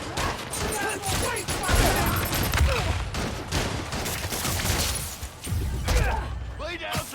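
Gunfire in Spider-Man: Miles Morales, repeated bursts of shots and sharp impacts crackling through a busy fight scene with voices shouting over the action.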